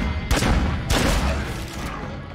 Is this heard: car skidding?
no